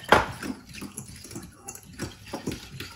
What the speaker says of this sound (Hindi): गरम पानी इसमें डालें, फिर इसमें ये खमीर और चीनी बड़ी जल्दी मिक्स होती है